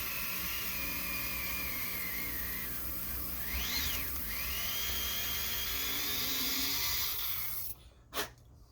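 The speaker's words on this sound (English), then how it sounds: "all I want to do is put a hole down through there" A high-pitched drill whines steadily for several seconds with shifting tone as it bites into a hardened steel rod, then cuts off, followed by a brief clunk.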